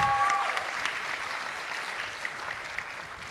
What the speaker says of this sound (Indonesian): Kita berikan tepuk tangan bagi setiap yang ada